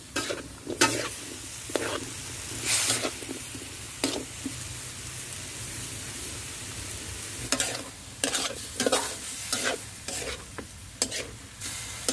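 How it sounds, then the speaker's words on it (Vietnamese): Mustard greens are stir-fried in a pan, with a soft steady sizzle under repeated bursts of scraping and tossing from the spatula, close up and without talk. "Bỏ cải vô mình xào."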